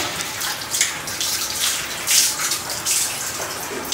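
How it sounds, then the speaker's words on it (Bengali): Clothes washed by hand in water, with continuous sloshing and splashing and a few brighter splashes rising out of the steady wet churn, close and fairly loud. "কাপড়গুলো ধুয়ে ফেলতেছি"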